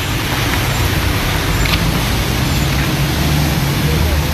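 Road traffic idles and churns around an ambulance stuck in a flooded street in Bernoussi. A dense, constant roar of engines and wash fills the air, with no individual vehicle standing out.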